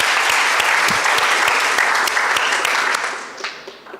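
Audience applauding the winning team at a school debate competition, a dense burst of clapping that holds steady for several seconds and then thins out and fades toward the end.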